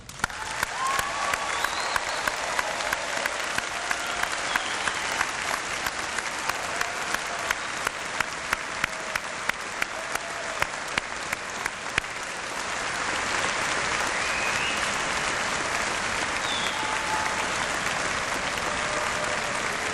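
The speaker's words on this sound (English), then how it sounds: "I believe our newly graduated class deserves a big round of applause." A large convocation audience applauds the newly graduated university class, sustained dense clapping from a big hall crowd that holds steady and swells slightly toward the end.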